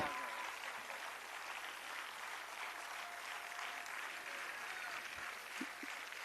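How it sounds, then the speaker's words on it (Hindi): Loud, continuous applause from a large crowd fills a state-level award and assistive-equipment distribution ceremony on World Disability Day, with steady clapping throughout and a voice speaking faintly beneath it. "लगातार तालियों के साथ जोरदार तालियां।"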